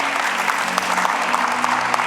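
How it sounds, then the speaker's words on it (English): A church congregation claps together in steady, dense applause with a faint hum beneath, the clapping close and continuous with a few sharper individual claps standing out. "Let's give them a round of applause as they're leaving."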